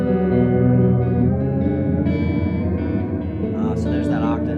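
A sustained tone through a reverb pedal's dark mode, washed in reverb with a deep added lower octave, long ringing tail, with some brighter sounds near the end.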